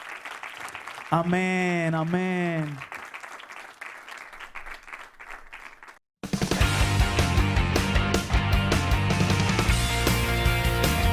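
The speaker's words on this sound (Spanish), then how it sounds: "Denle un aplauso al Señor." A church congregation breaks into loud, sustained applause after a sung passage, dense clapping that fills the room and continues to the end.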